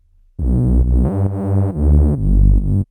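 A UK garage synthesizer bass preset in Serum plays a short phrase of thick, sustained notes, loud and buzzy, with a thin high tone ringing above.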